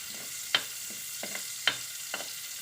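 Garlic and onion being stirred in leftover pork belly frying fat, a soft steady sizzle with a few sharp clicks of a utensil against the pan, close and fairly quiet.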